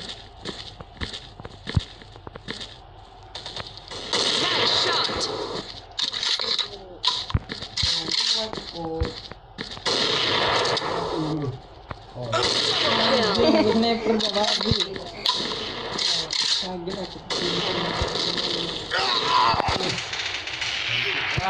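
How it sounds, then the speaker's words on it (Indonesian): Gunfire in The Kill Box Arena Kombat, sharp shots and bursts scattered through busy game noise, loud and close, while players talk excitedly throughout. "Siapa yang nembak tuh?"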